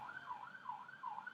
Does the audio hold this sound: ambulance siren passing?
yes